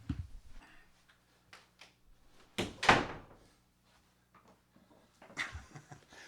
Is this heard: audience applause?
no